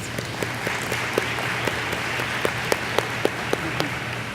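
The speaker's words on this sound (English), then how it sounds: "So one more round of applause." Sparse applause from a crowd at a high school graduation ceremony, with scattered claps standing out over a steady low hum, continuing throughout.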